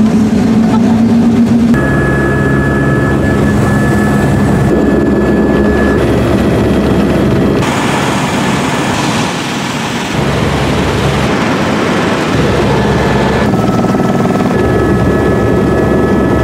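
Helicopter flying over the Grand Canyon, heard from inside the cabin as a loud, steady, continuous rotor and engine roar that fills the whole stretch, with slight shifts in tone.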